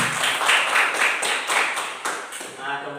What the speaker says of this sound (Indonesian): ayo kita kasih tepuk tangan dulu